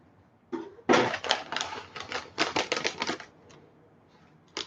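Scissors snipping open a plastic snack package of small fried-noodle snacks: a few quick, crisp cuts and crinkly rustles close by, clustered in a short burst with a lone snip near the end.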